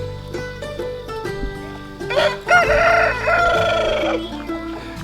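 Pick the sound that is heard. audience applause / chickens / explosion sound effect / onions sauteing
chickens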